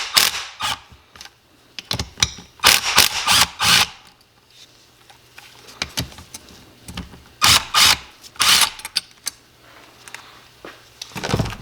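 Metallic clicks, snaps and scraping clatter come in bursts as a retainer is popped off the pull mechanism of a Yamaha YZ125 two-stroke engine during a rebuild, loud and close with quiet gaps between.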